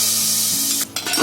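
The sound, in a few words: tadka tempering sizzling in a pressure cooker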